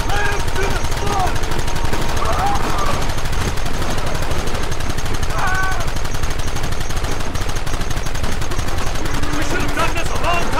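Rapid gunfire crackling nonstop in Red Dead Redemption, a dense loud volley of overlapping shots filling the whole stretch, with shouting voices mixed in.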